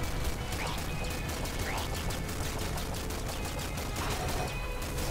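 Rapid automatic gunfire in the Nuclear Throne video game on PC, a steady dense stream of loud shots and clattering mechanical hits running throughout.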